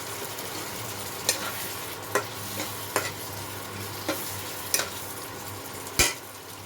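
Cumin and coriander powder being stirred into tomato and chili paste in a frying pan. A steady low sizzle runs beneath several distinct scraping strokes of the spoon, with no talking.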